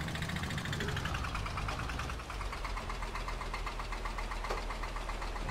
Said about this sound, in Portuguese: O tratorzinho tentando patinar, ó, e o reboque puxando.